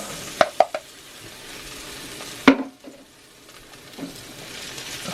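Mushrooms sizzling and sautéing in olive oil in a cast iron pan, a steady soft fry with a few sharp clinks and taps of a utensil against the pan.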